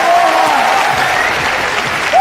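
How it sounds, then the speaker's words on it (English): Arena crowd applauding after a women's MMA bout between Jessica Andrade and Claudia Gadelha, a steady dense wash of clapping and cheering that lasts throughout, with a faint whistle near the end. "crowd showing their respect for a virtuoso performance from the pile driver"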